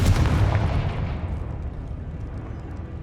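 A Confringo blasting spell fires in the video game Hogwarts Legacy, a loud burst that booms up front and then trails off into a long rumbling decay, with no voices present.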